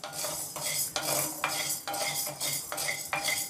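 Sabudana (sago pearls) dry-roast in a pan for thalipith bhajni flour, and a metal spoon scrapes and clinks against the pan again and again in a steady rhythm. The stirring is close and fairly loud, with a faint rustle of the grains and no voices.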